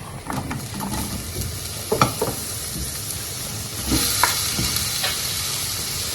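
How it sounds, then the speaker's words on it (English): Onions and garlic sizzle loudly in a frying pan for a bacon pasta, a continuous hiss with scattered scrapes and clinks of stirring. "So I'll go ahead and I'll add my onions and garlic."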